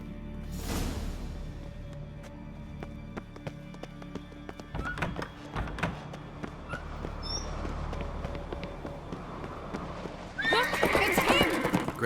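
In the game The Witcher 3, a horse whinnies loudly near the start, followed by scattered hoof clops and thuds, with a louder burst of clattering hooves and movement toward the end.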